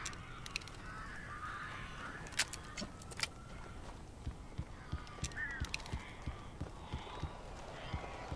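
Birds caw in the video game Alan Wake Remastered, loud honking calls that are scattered across the clip over quiet ambience, with sharp clicks and taps between them.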